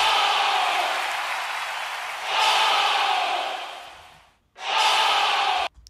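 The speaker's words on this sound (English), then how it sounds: "And you see the crowd comes in every time the guitar comes in." A crowd roars and cheers as a layered effect in a music track, swelling in long washes that fade, cut out sharply, then return full and loud before stopping abruptly.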